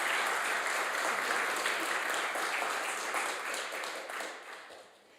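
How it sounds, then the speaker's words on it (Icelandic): An audience in Grundarfjörður church claps for Máni at a men's choir concert, a dense, even round of applause from many people that stays strong before tapering off in the final second. "mér langar líka sérstaklega að þakka honum Mána fyrir og gefa honum sérstaklega gott klapp"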